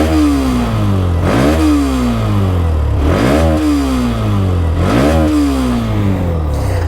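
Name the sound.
Hero Xtreme 125R motorcycle engine revving, side-mounted exhaust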